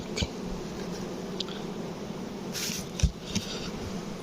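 Honey bees buzzing around a frame from a single-frame nucleus hive, a steady close hum with a few faint knocks and a brief louder rustle partway through.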